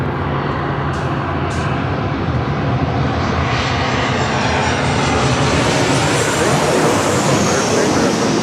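Airliner arriving at Los Angeles International Airport on runway 24 left, a loud continuous jet engine roar that swells and shifts in pitch as it passes close by, with no talk over it.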